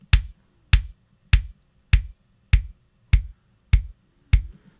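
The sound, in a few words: kick drum beater with narrow EQ boost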